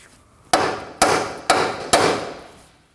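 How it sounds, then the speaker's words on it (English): Four sharp, ringing hammer strikes on the steering knuckle to free the outer tie rod end of a Kia Sorento (2016-2020, 2.4L), evenly spaced about half a second apart, close and loud with short decaying rings. "We're gonna go ahead and tap on this area to free up the outer tie rod."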